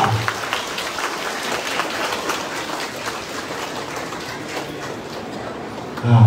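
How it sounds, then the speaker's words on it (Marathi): Audience applause at a Vitthal Rukmini temple felicitation event in Gandhinagar, Kopri: steady, dense clapping holds evenly throughout at moderate loudness, with no talk over it. "टाळ्या वाजवा."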